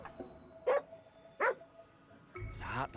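A sad dog gives two short, close barks a beat apart, followed by a brief whimpering yelp, with a voice talking faintly in between.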